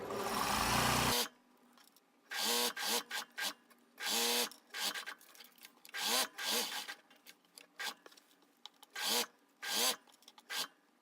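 A sewing machine back tacks to finish the back opening of a wrap garment, with several short, rapid stitching bursts separated by brief pauses. A louder rasp is heard at the start.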